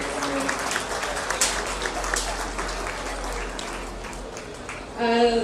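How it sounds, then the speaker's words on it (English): A crowd at a beef cattle showmanship contest applauds champion exhibitors, giving steady, moderately distant clapping that tapers off near the end as a brief tonal sound cuts in. "of applause for all these champions."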